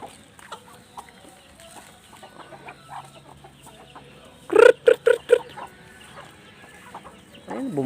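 Free-roaming Rhode Island Red chickens cluck loudly and close by in four quick bursts, after quieter scattered clucks and farmyard sounds.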